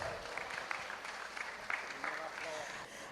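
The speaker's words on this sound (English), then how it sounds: "Please give it up, please. Round of applause." Audience applause at a Mother's Day tribute ceremony, a steady patter of many clapping hands held at moderate level across the whole stretch, with faint voices mixed in.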